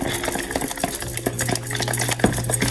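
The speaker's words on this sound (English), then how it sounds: "With a fork, you want to mix it all up." A fork mixes peanut butter, egg and honey together in a bowl, giving steady close scraping and light clinking strokes with a few sharper taps, and no talking.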